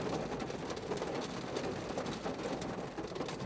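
Heavy rain pours steadily outside a Honda Civic RS e:HEV on a morning drive, a dense unbroken hiss of drops drumming on the car with no pauses and no voices.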